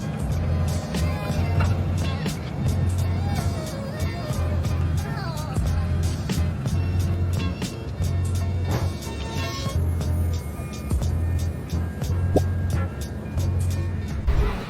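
Interior of a moving city bus: a low engine drone with rhythmic rumbling, rattles and clicks, faint voices and passing traffic sounds blending in a busy, continuous ride.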